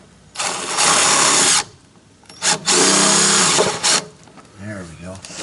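Power drill driving self-starting screws, two loud sustained whirring bursts with a brief blip between, close up, followed by a short voice at the end.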